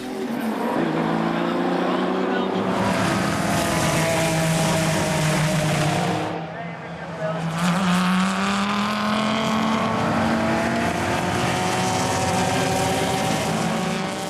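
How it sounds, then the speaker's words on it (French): Onboard a Ferrari 430 race car at a race start, the engine roars loudly and without a break, climbing through the revs. A short lift and gear change comes midway, then it rises again at full power. "Nous revoyons ce moment toujours intense du départ depuis l'habitacle de la Ferrari 430 de Fred Bouvy."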